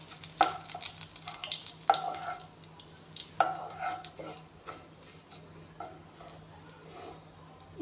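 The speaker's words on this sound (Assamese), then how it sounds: "এতিয়া পাঁচফোৰণ তেজপাতখিনি অলপমান ভাজি লৈ ল'ম।" Panch phoron spices and bay leaves frying in oil in a pan, with soft sizzling and several sharp clicks and stirring scrapes at irregular intervals, fairly quiet and close.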